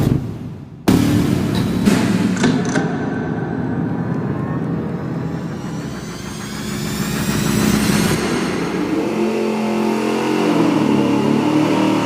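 An engine on a dyno runs through a Summit 2-chamber muffler with no packing. A loud, rough exhaust note revs up, then holds a steady, throaty drone with a rising and falling pitch.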